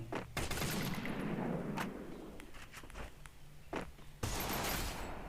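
Gunfire in a video game, with sustained rapid bursts at the start and near the end, separated by scattered single shots and quieter stretches.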